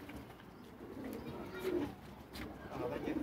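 A homing pigeon coos softly near a coop in hot weather, low murmuring calls rising twice amid quiet background noise.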